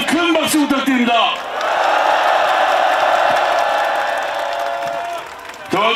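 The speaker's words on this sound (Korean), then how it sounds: "이재명 대표님께 힘내시라고 다시 한번 큰 박수 부탁드립니다" A crowd at a political rally for Lee Jae-myung cheers and applauds after an amplified speaker's call, a sustained roar of clapping and shouts that swells and then fades. A loud voice speaks at the start and again at the end.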